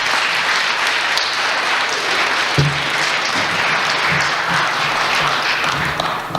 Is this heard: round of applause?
yes